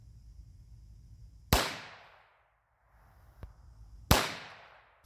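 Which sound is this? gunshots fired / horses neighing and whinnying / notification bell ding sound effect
gunshots fired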